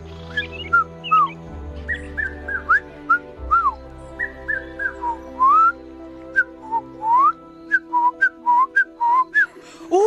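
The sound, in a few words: human whistling imitating bird calls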